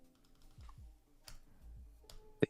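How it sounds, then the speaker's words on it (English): Computer keyboard typing during a live trading session, a few scattered key clicks and taps close by, fairly quiet, with a sharper click near the end and no talk. "just typing out the position in Discord"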